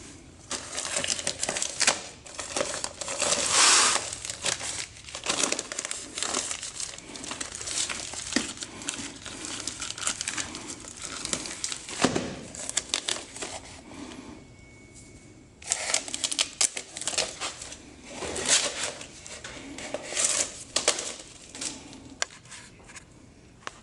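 Romex electrical cable is pulled from the center of a shrink-wrapped roll, giving close, busy crinkling of plastic wrap and rapid rattling, clicking scrapes in uneven bursts with short pauses, no talking.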